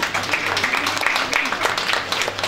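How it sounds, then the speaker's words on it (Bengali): Audience clapping at a college endowment prize distribution, a modest ripple of applause running under a continuing announcer's voice. "একটু জোরে হাততালি হোক।"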